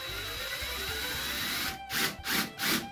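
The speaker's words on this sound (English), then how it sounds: "I'm gonna add a drywall screw in there sideways." A drywall screw driven sideways into an electrical box during outlet installation in a cabin summer kitchen, heard as two or three short bursts of a power driver whirring near the end after a steady background hum.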